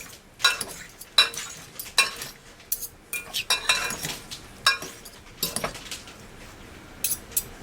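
Canned green beans dressed with lemon juice being tossed in a bowl, giving repeated irregular clinks and scrapes of a utensil against the dish, close and fairly loud, with no talking.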